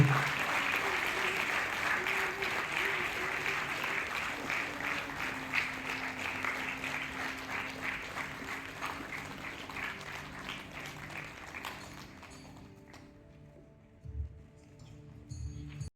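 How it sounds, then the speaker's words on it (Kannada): An audience at a BSS Microfinance student scholarship distribution ceremony gives sustained, dense applause that gradually thins and fades out near the end, leaving a few faint sounds and a brief voice. "ಕೊನೆ ಕ್ಷಣದವರೆಗೂ ಚಪ್ಪಾಳೆಗಳು ನಿಲ್ಬಾರ್ದು"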